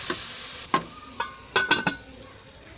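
Masala spices frying in a pan on a low flame for aloo gobi, a soft continuous sizzle broken by a few sharp clinks of a spoon against the pan, close and fairly quiet.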